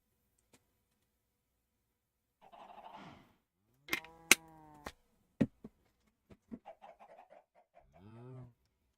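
Chickens in Sky Factory 4 clucking in short, scattered bursts with brief squawks and gaps of silence between, fairly close and quiet overall.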